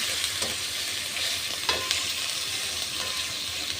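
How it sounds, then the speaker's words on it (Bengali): Onion and garlic paste frying in oil in a wok, a steady loud sizzle with light stirring scrapes, close and continuous throughout with no voices. "কড়াইতে তেল দিয়ে পেঁয়াজ বাটা রসুন বাটা দিয়ে দিয়েছি।"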